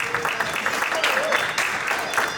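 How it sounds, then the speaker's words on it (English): An audience applauding as a guest is welcomed onstage at a health talk show, a close crowd of rapid clapping mixed with cheers and voices throughout. "Come on, clap your hands,"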